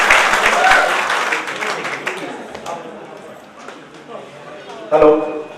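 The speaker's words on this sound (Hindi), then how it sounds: "इसलिए अजरम जी आगे की महफिल सजाओ, आप लोग तालियां बजाओ।" An audience at a community meeting claps in a short burst at the start, then the applause thins out as someone talks over the room.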